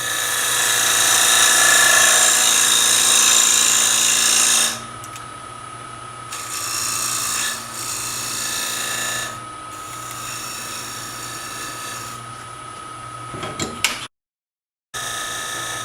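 Skew chisel used as a scraper shaping a wooden bowl lid on a lathe, a steady whirring scrape that is loud at first, then drops to a quieter hum with intermittent cutting bursts, a short gap near the end.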